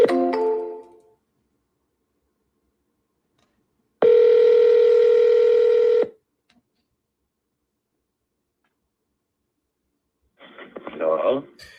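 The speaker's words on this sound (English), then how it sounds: "I'm gonna do a third dial." A telephone dialing a number: a short burst of voice at the start, then a loud steady tone lasting about two seconds, followed by silence and a faint voice at the end.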